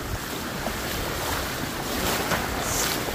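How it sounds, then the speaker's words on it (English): Waves wash along a snowy Lake Erie beach in winter, a steady broadband roar of surf blended with strong wind buffeting the microphone, continuous and fairly loud throughout with no voices. "We are at the beach because that expanse of snow in front of you, that's one of the Great Lakes, it's Lake Erie."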